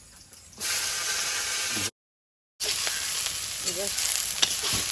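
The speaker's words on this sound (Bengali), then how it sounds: "শাকটা একটু চাপিয়ে দেই লঙ্কা দেই অল্প একটু জিরে তেলে দিলাম" Greens hit hot oil with chili and cumin, a loud steady sizzle starting abruptly, dropping out for a moment, then resuming with light stirring scrapes.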